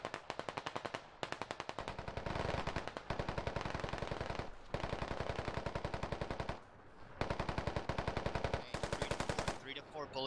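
Rapid automatic gunfire in the military shooter game Squad, loud close bursts of fast repeated shots separated by short pauses, with a brief burst of talk at the end.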